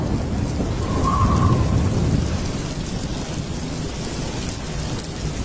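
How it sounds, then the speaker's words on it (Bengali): Heavy cartoon rain pours steadily while a deep roll of thunder swells near the start and fades, leaving a constant dense downpour hiss. "বাইরে ঝমঝম করে বৃষ্টি পড়ছে।"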